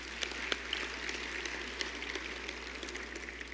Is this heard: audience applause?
yes